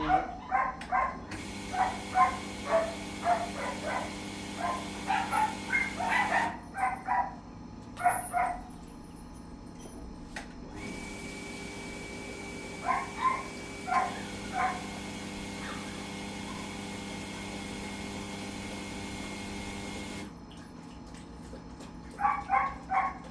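A Thai mixed-breed dog known for biting barks in repeated bursts of quick, sharp barks, separated by quieter pauses, fairly close and with no talk over it.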